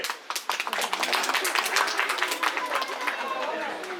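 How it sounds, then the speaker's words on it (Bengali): A group of people clap their hands together at a family gathering, producing a dense, ragged burst of claps that carries on steadily for a few seconds with murmuring voices mixed in. "মারো হাততালি।"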